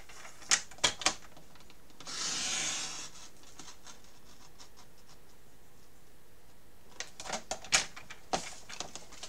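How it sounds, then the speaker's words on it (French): A single sustained rasp of a paper trimmer blade cutting paper, about a second long, framed before and after by sharp clicks and knocks of paper being handled and shifted. "Alors moi, je le fais au massicot."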